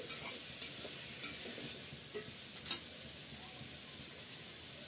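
Carrots cooking in a pan for restaurant-style fried rice sizzle with a soft, steady hiss. A few light scrapes and clicks of stirring come through it, close and fairly quiet.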